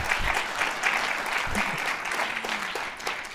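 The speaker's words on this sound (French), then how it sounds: "On peut applaudir Charlotte Grère." An audience claps together in a brief, steady round of applause, moderately loud and filling the room.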